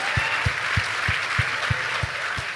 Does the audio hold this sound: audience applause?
yes